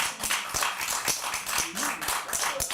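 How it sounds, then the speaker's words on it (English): Applause with scattered hand claps at a zoning board of appeals meeting, fairly loud and steady throughout, a crowd clapping with bright sharp transients and a few voices faintly underneath. "can we hold the applause?"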